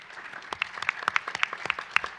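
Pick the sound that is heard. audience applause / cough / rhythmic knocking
audience applause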